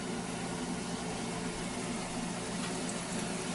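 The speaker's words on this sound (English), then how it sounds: "So now I'm gonna fry" Homemade corn tortilla chips frying in hot oil, a steady dense bubbling hiss that holds evenly throughout.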